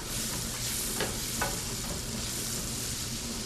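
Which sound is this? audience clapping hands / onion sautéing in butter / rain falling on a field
onion sautéing in butter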